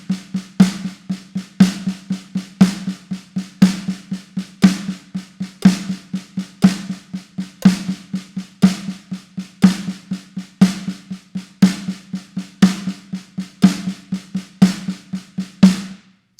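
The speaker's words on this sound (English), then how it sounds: "a standard paradiddle sounds like this." A standard paradiddle rudiment is played on drums as a steady, close stream of strokes with regular accents repeating in even groups, alone and without talk.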